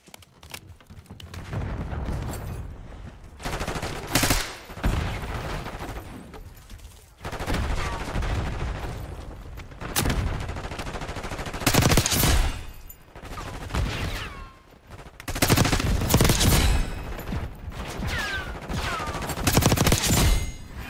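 Gunfire in the video game Black Ops 6, with repeated loud bursts of shots and rapid volleys coming in clusters across the whole stretch, close and forceful.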